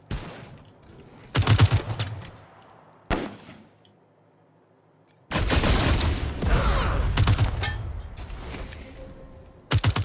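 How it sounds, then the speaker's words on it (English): A rocket blast fired at hostiles in the Wasteland 3 video game: loud explosive bursts separated by short silences, then a long crackling, rumbling roar that slowly fades, with a final sharp burst at the end. "I can blast them with a rocket."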